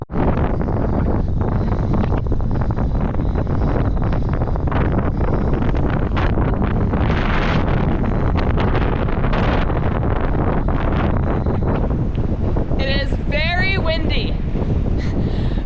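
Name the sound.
strong wind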